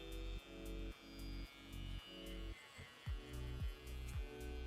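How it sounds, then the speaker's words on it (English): An electric foil shaver buzzes while cleaning up a beard and taper haircut, a steady close hum broken into rhythmic pulses as it passes repeatedly over the hair, with no talking. "I'm going to use the foil shaver to butt out the bottom"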